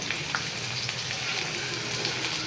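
Cumin and minced garlic roasting in a pan on a low flame, with a steady close sizzle and faint crackling pops throughout and no voices.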